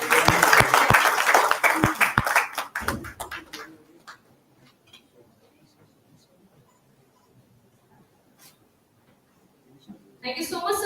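Applause at an award ceremony for a recipient honoured for visionary leadership in technical education, brisk clapping that fades to near silence, followed by a voice speaking near the end.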